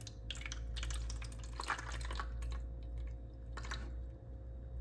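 Water poured onto Drosera carnivorous plants, a splashing, dripping trickle in irregular bursts close to the microphone, with low steady hum underneath.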